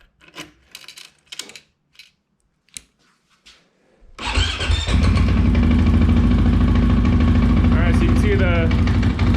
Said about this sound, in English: let's go ahead and start up the bike